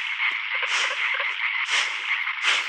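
A frog croaks in the video game Limbo, repeated rhythmic croaking calls with regular stronger pulses about once a second, clear and alone with no talk.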